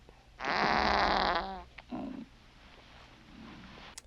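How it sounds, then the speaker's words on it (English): A loud, wet, drawn-out fart sound effect from the 1980 comedy film Up the Academy, blaring for about a second with a sputtering, flapping texture, then a shorter burst and a faint trailing rumble. "I prefer a little more subtlety with my fart jokes."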